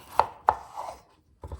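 A knife chops through the tail end of an ingredient on a board while cooking Japanese curry: two sharp, close cuts a third of a second apart, a softer scrape, a pause, then a further quick pair of low knocks.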